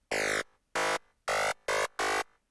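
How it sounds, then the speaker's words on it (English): Five short, bright FM synth stabs with all modulators removed, giving a sharp clicky attack and fast-falling overtones, played in an uneven rhythm with silence between them. "you can hear that we get a very nice clicky sound out of that"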